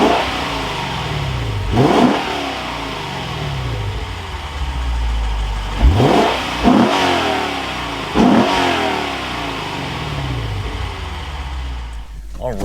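A 2022 Lexus IS 500 pulling away, its V8 engine revving hard through several rising sweeps with gear changes between bursts, loud and close, settling near the end.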